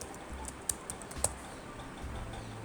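Quiet, close typing on a computer keyboard, a short run of soft key taps with a couple of sharper clicks, then near silence with low background hum, no speech.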